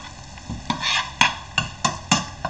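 A spoon stirs softening vegetables in a pot for a shrimp bisque, giving a series of soft scraping strokes at a steady rhythm over a faint sizzle, close and quiet.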